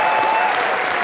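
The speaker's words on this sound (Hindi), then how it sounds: "जिसके लिए जोरदार तालियां सर" A studio audience at a comedy talk show with cricket stars Sunil Gavaskar and Virender Sehwag breaks into loud, dense applause, a close wall of clapping for about a second.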